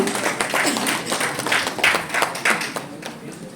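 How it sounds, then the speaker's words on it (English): Audience clapping for dignitaries standing on stage at the launch of South Asia's inaugural Women's Handball League, a moderate crowd giving irregular, fairly close claps that thin out toward the end. "Can we please once again give them all a huge round of applause, everybody?"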